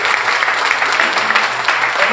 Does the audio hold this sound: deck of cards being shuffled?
no